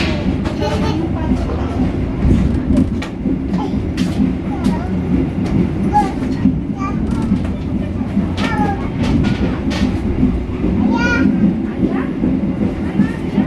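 A Sibinuang passenger train on the western coast of Sumatra rumbles along steadily from inside the carriage, a loud continuous low roar with rattling and occasional squeals, while voices murmur faintly over it.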